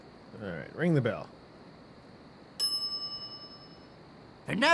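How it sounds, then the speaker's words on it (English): A shop counter bell in the video game Monkey Island 2 gives a single bright ding that rings on with a slowly fading tone, framed by brief talk before and after. "All right, ring the bell."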